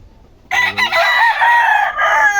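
A ten-month-old Gilmore sweater bloodline fighting rooster crows once, loud and close, a single sustained harmonic call lasting about two seconds after a brief quiet start.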